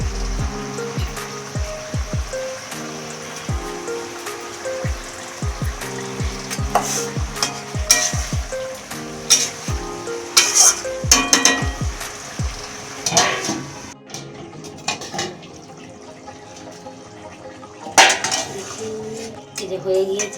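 Fish cooks in a pan with a continuous frying sizzle, joined by repeated sharp metallic scrapes and taps of a utensil against cookware, rhythmic at first and then more irregular, with no talking.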